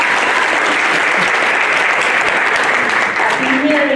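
A workshop audience on positive masculinity claps steadily and loudly for a co-presenter, producing a dense, continuous wash of applause.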